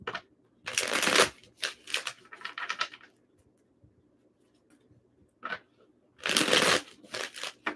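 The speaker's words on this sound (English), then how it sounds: "One more shuffle for Scorpio." Tarot card shuffling in two bursts of riffling and flicking, with a quieter patch of scattered taps in between; close and clear.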